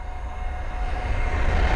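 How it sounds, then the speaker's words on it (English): Two trains pass through a main-line station together, a steady, fairly loud rumbling roar that builds slightly over a brief moment, with no voices. "we've got two trains passing through"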